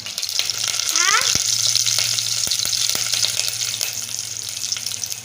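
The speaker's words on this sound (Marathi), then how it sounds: "हा कुटलेला मसाला थोडासा परतून घ्यायचा" Ground spice masala frying in a pan for masale bhat, a busy sizzle with stirring scrapes and a few sharp clinks, close and fairly loud with no talk.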